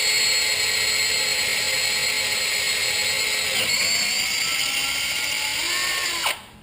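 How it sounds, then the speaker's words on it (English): A drill bores through a hole in a motorcycle swingarm with a steady, close, high-pitched whine that shifts slightly in pitch, then winds down and stops just before the end. "it should drill through pretty easy through this hole"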